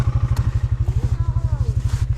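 A Stels Leopard vehicle's engine revs in a forest, a steady low pulsing throb with a rapid regular beat, loud and close, while people talk over it.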